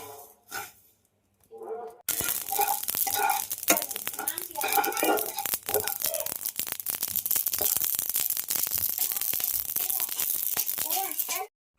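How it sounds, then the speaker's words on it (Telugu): Spices crackle and spit in hot oil for chicken curry: a dense, busy run of sharp pops and sputters that starts abruptly and carries on close and loud, with voices talking over parts of it. "చిట్టి చిట్టి చిట్టి శబ్దం అవుతుంది."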